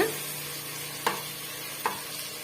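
Ginger garlic paste frying with onions for a mushroom gravy, a steady soft sizzle with two sharp spatula scrapes against the pan, close and moderately loud.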